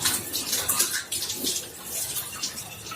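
Tap water runs steadily while a tomato ketchup bottle and a drink bottle are rinsed clean, a close splashing stream with small shifts as the bottles move under it.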